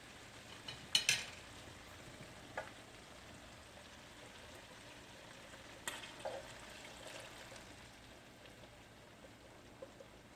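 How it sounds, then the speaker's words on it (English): Sauce is dumped into a pan of bistek tagalog and stirred, giving a low steady frying hiss with a burst of splashing and scraping early on and a few more clatters of stirring later, no voices. "I'm gonna dump the sauce now"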